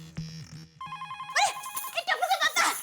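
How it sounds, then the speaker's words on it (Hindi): A telephone rings with an incoming call, a bright electronic ringtone of repeating tones that starts thin, then grows into a busier, louder melodic pattern over a few seconds. "टप्पू के पापा, टप्पू का फोन आया।"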